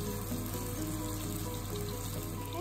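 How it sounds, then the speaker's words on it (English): Bean balls fry in a tablespoon of Kalamata olive oil, giving a faint, steady sizzle with no talking. "I'm gonna fry them in olive oil because I think that'll help them crisp up and stay together better"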